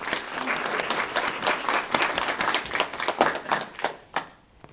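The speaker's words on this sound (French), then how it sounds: "On peut déjà l'applaudir." Audience at a town-hall gala evening applauding a volunteer coming forward, a dense burst of hand claps with sharp individual claps standing out, fading toward the end.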